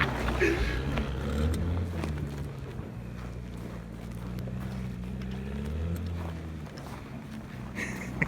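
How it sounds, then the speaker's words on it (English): A BMW car stuck in a Portland snowstorm spins its tires in the snow, the engine and wheels whirring in a steady, muffled churn that rises and falls several times at a moderate distance. "Just keep spinning the tires until it warms up."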